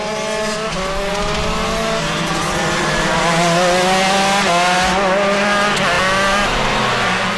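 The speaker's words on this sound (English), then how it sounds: "Brothers Wick 1-2 in this race here in the early going" Shifter karts race at the TCKC Shootout, their high-revving two-stroke engines screaming loud and close, the pitch rising and falling through gear changes as several karts buzz past in continuous overlapping waves.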